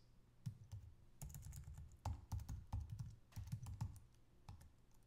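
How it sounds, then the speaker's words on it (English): Keys clatter on a computer keyboard as a password is entered on a Raspberry Pi, a brisk irregular run of soft close taps with short pauses and no talk. "You can do this directly from the keyboard."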